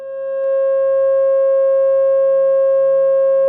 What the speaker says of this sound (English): What are these tones? They are F sharp and its perfect harmonic fifth of C sharp.